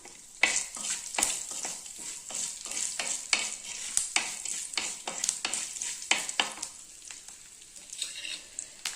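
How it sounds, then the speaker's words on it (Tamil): Ten garlic cloves fry in hot oil for an okra tamarind curry, giving a steady crackling sizzle broken by repeated sharp scraping and stirring clicks, close up and with no talk. "10 பல்லு பூண்டு போட்டுக்கலாங்க."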